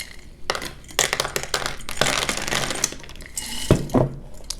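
Homemade trail mix pours into a container, a close rattling cascade of nuts and pieces clattering in quick bursts and then tapering off, with no talking.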